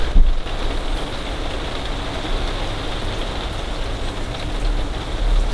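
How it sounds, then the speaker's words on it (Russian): Steady rain drums on a trailer roof overhead, a dense, even patter that continues without pause, loud and close, with no voices. "нужно сейчас послушать дождь, который тарабанит по крыше"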